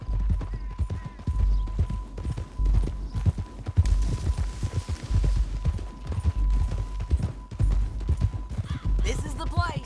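Horse hooves clip-clop steadily at a walking pace in the video game Red Dead Redemption 2, close and rhythmic, under people talking, with a faint steady tone and an occasional creak of tack.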